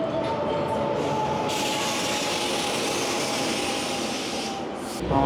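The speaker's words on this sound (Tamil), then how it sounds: "ட்ரெயின் வந்துருச்சு." A passenger train pulls into a station with a loud, steady rolling rumble and broad metallic rushing noise, heard close and continuous for several seconds.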